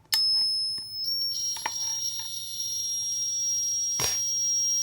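A 12-volt backup sump pump controller sounds a steady, piercing electronic alarm tone that holds continuously, with a few brief clicks and knocks nearby.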